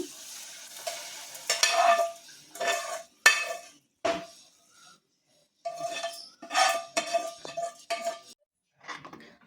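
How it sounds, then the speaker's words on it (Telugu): Bursts of hot-oil tempering sizzling and crackling as it is poured into boiling moong dal come in irregular spurts, with sharp spattering hisses between brief quiet gaps, close by. "ఇప్పుడు మరిగే దాంట్లోకి తాలింపు వేసేసుకుందాం మనం"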